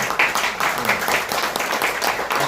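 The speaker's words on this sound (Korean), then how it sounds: "박수 한번" Applause from a seminar audience after a lecture on Kim Gu, a dense wash of many hands clapping at close range that holds steady for a couple of seconds.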